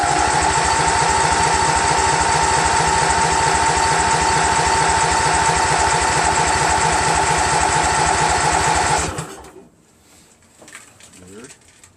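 A Briggs & Stratton Vanguard 16HP engine on a Craftsman GT6000 garden tractor runs loud and close with a steady, throbbing drone for about nine seconds, then shuts off abruptly, leaving quiet with faint rustling.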